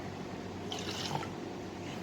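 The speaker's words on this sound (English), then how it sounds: "I'm going to pour in some water" Water poured into a homemade vinegar-and-soap volcano mixture, a soft, brief trickle and splash heard faintly over a steady background hiss.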